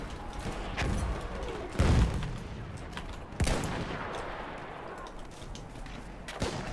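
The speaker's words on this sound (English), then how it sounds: "Being shot at." Gunfire in the Battlefield 1 video game, played with a Mosin carbine, comes as several heavy shots and thumping blasts, some close and loud, others more distant, over a constant battlefield rumble.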